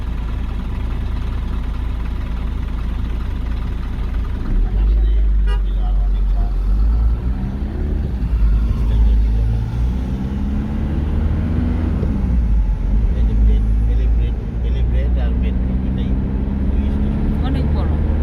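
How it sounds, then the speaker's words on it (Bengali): A metro bus pulls up at a city bus stand, its engine idling with a steady low rumble under street traffic, with people talking close by throughout. "বাস আসতেছে।"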